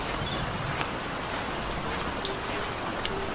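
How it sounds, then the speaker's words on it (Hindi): Rain falls steadily in a story scene, a dense, even hiss of drops hitting a surface with a few sharper patters standing out, constant and fairly close, with no voices. "बारिश शुरू हो गई है"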